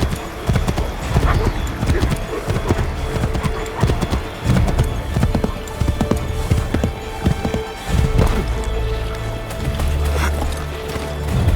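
Horse hooves clip-clop in a quick, uneven gallop while riding in Assassin's Creed 3, with occasional heavier thuds and a snort, and game voices speaking over the hoofbeats.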